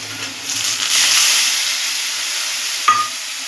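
Potatoes frying in a pan give a broad, steady sizzle, then a brief sharp hiss near the end as spices and a splash of water hit the hot oil; no voices.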